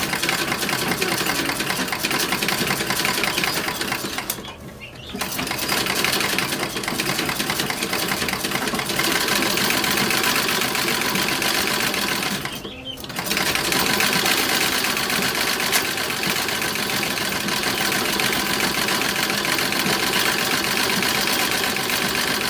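Treadle sewing machine stitching the yoke front of a 1930s-1940s style toddler dress, a steady continuous mechanical whir and rattle running throughout, pausing briefly twice.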